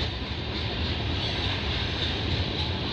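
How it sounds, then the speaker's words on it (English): Freight train on the CP/CN line in Milton, Ontario, rumbling steadily past at close range, a broad continuous roar with no voices. "Not entirely sure what this train is, but I'll look what the cars they're carrying."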